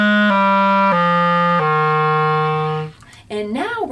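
A clarinet plays three low notes stepping downward, smoothly slurred together, followed by a brief spoken remark.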